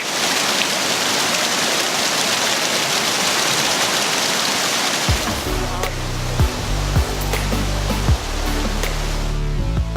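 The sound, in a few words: Kuang Si waterfall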